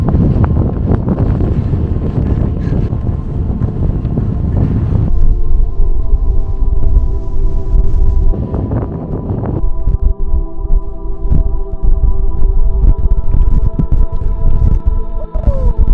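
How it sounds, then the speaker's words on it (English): Violent wind on a mountain ridge at Parker Ridge in Banff National Park roars and buffets a low-braced tripod, loud gusty rumbling that settles into a steadier throbbing hum. "This shot here shows how violent the wind is, tossing my tripod up and down"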